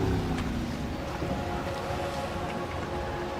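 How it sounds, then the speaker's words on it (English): A boat engine in the video game Max Payne 3 drones steadily under a dense wash of water and wind noise, constant and fairly loud with no speech. "I'm gonna cut the engine."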